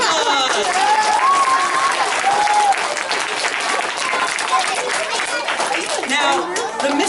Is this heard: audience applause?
yes